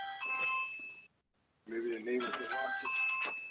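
A doorbell rings at a home's front door, its tonal chime sounding twice with a short silent gap between the rings.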